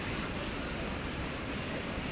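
A waterfall flows in a scenic natural spot where people go to bathe, heard as a continuous, loud broadband rush of water with no breaks and no voices.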